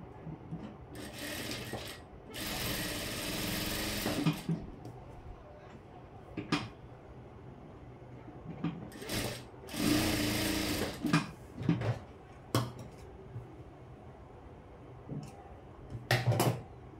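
A sewing machine runs in two long bursts and a few short ones, double-stitching darts on a blouse front. The whirring is close and fairly loud, with quiet handling rubs and pauses between runs.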